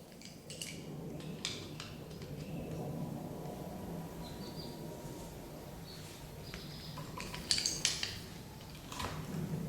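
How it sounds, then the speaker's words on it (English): Two wrenches clink and ratchet against a metal fitting as it is snugged down, making light metallic taps and scrapes, close and fairly quiet over a low background hum. "This is the old double wrench trick."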